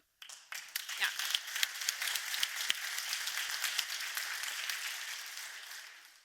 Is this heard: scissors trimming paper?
no